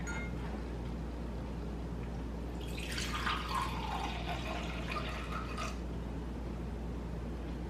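Water pours briefly into a bowl for a few seconds, a soft splashing trickle over a quiet background hum, with no talking.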